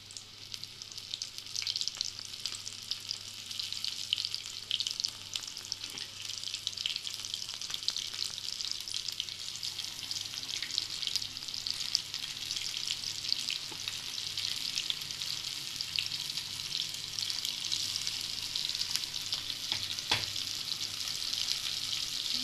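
Long strips of food fry in a pan with an even, hissing sizzle that holds steady for over twenty seconds, with occasional small pops and a low hum underneath.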